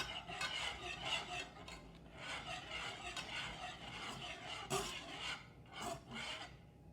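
Metal whisk scraping steadily around a pan as butter melts for a gluten-free macaroni and cheese with bacon, a close, continuous raspy rubbing with a few brief louder scrapes.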